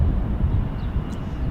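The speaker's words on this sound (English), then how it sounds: "Now we got a departure on runway 35." A jet departing runway 35 at Salt Lake City International Airport roars as a broad, steady rumble heard from a distance, continuous and fairly loud with no voices over it.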